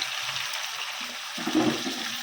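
Tap water runs steadily into a cooking pot in a home kitchen, a continuous rushing splash that swells slightly midway, with no talking.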